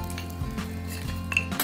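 A metal grill net is set down over a campfire, giving a short burst of light metallic clinks and rattles, fairly quiet and close, with no voices.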